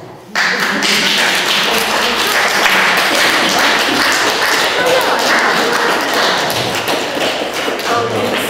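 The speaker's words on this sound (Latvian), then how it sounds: "Mums aplausi." An audience at a talk held in a museum study applauds with dense, continuous clapping that starts sharply and holds steady and close at full strength to the end.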